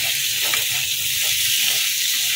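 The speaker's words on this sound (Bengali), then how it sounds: "এই মুগ ডালটা দিয়েও আমি মিনিট 2 সময় ধরে আবারও কষিয়ে নেব" Mung dal and taro being sautéed in a pan, a dense, steady hiss of frying throughout with a few faint stirring scrapes underneath, close and fairly loud, no voices.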